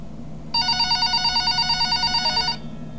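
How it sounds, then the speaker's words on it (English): A telephone rings in an animated cabin horror story, a loud electronic warbling ring pulsing steadily for about two seconds over a low background hum, then stopping. "the phone on the counter rang"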